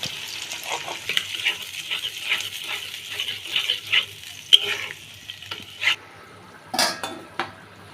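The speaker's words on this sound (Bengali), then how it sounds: "পেঁয়াজের মধ্যে আমি রেডি করার যে মশলাটা রাখছি এটা দিয়ে দিব দিয়ে ভালোভাবে কষাবো" A spice paste is fried with onions in a pan for chicken roast and stirred hard, with a soft sizzle under repeated scraping and clinking of a utensil against the pan, plus a few louder knocks.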